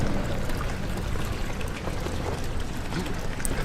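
Water noise from a leaking hole in the ceiling in the horror video game Amnesia, a steady rushing, splashing hiss that fills the whole moment without breaks.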